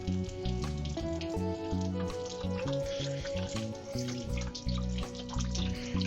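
Beer pouring from a 14 gallon conical fermenter into a measuring flask, a steady liquid stream with gurgling and splashing that runs continuously at close range with no voices over it.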